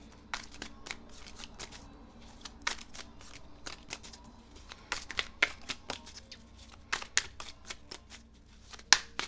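A deck of tarot cards is shuffled by hand in a quiet room, with repeated crisp riffles and flicks that come in irregular bursts and grow a little sharper toward the end.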